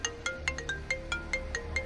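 A mobile phone ringtone sounds from inside a trash bin beside the front-row seats of a cinema. It is a bright, repeating electronic melody of evenly spaced tones, slightly muffled and moderately loud, with no voices.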